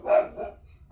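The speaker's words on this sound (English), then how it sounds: "That's a dog." A single dog bark, fairly short and a little muffled, rising quickly and tailing off with a softer second burst, heard on its own with no talk.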